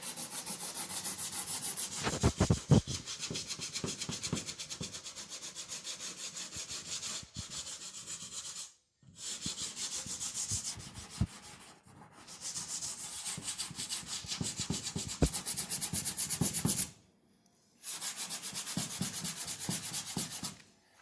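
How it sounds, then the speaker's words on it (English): Hand sanding on a Buick's curved fender well, strokes running at 45 degrees in both directions: steady close scratchy rubbing in long bursts, broken by brief pauses. "I like to stay with that 45 degree sanding. Both directions."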